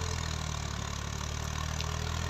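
A Ghazi tractor pulling a cultivator through a Punjab cotton field runs with a steady, loud, low diesel rumble that holds constant throughout, with no voices over it.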